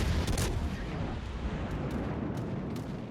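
Deep, rumbling booms of battleship gun salvos and shell impacts in a World of Warships Legends naval battle, loud and continuous, with a few sharper cracks rising over the dense low roar.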